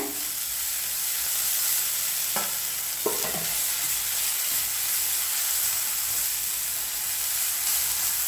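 Grated carrot, beetroot and potato sauté in a pan for a vegetable poriyal, giving a steady close hiss of frying broken by two short scraping stirs near the middle.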